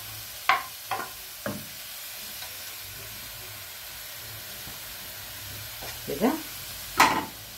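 Chopped carrots tumble into a hot pan with a few sharp clattering drops and a soft, steady sizzle, while a voice briefly speaks.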